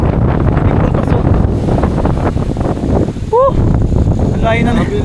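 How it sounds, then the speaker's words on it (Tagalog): Loud, buffeting wind roars across the microphone on a mountain in Aroroy, Masbate, with voices talking underneath and a brief whistle-like chirp near the end. "Lakas ng hangin."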